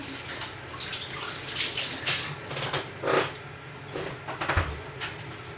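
Tap water runs steadily in a home kitchen while hands are washed, a soft continuous hiss with a few clunks and splashes and no talking.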